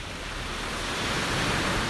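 Ocean surf breaking on a Florida beach on the Atlantic side, a steady broadband wash of big waves that swells slightly louder toward the end, with no voices.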